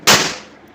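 A single firecracker set off for the Vishu festival gives one sharp, loud bang that decays quickly into silence.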